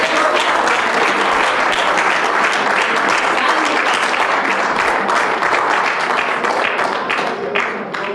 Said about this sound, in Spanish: denle un aplauso al Señor, denle un aplauso a la gloria de Dios